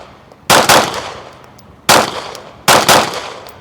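Handgun shots at an outdoor shooting range during a hostage drill from 15 and 20 yards, three sharp loud reports spaced about a second apart, each followed by a brief ringing decay.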